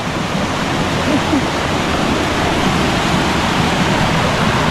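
Krok E Dok waterfall roars steadily at close range, a dense, continuous broadband rush of falling water that fills the whole clip without breaks or voices.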